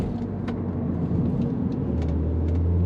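A BMW Z3 engine drones steadily in third gear on a back road, a close, continuous low rumble with a slight rise in pitch near the end.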